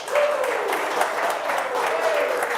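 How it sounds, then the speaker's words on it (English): Applause from participants at a virtual retirement party, a steady dense patter of clapping lasting the whole moment with a faint tonal whistle or feedback line drifting underneath. "Let's give yourselves a round of applause."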